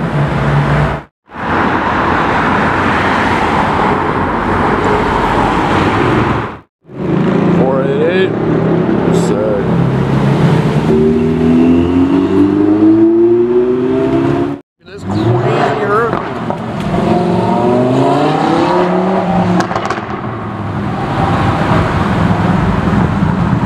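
A Ferrari 458 sports car driving past at a car event, a loud engine roar with rising and falling revs across several passes, cut by brief gaps, while people talk nearby.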